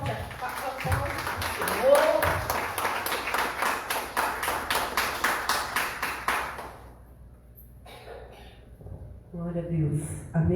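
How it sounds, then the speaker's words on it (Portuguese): A church congregation claps in unison at a service, a fast rhythmic run of sharp, even claps lasting several seconds before fading out, followed by quieter voices and murmurs. "Dê um forte aplauso."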